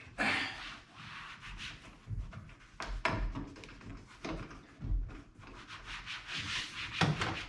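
Cloth or pad rubbing Armor All protectant into the vinyl interior of a 1968 Chrysler Newport, giving repeated scrubbing and wiping strokes in an uneven rhythm, close and moderately loud, with no talking.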